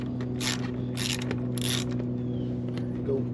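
Ratchet loosening 10 millimeter bolts on a Nissan Frontier during serpentine belt replacement, heard as a few short bursts of rapid ratcheting clicks over a steady low engine-bay hum, fairly close.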